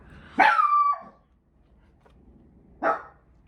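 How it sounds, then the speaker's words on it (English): A dog barks twice, close by and fairly loud: a sharp bark with a drawn-out whining tail, then a short single bark a couple of seconds later after a quiet gap. "it looks like my dog is warning somebody about something"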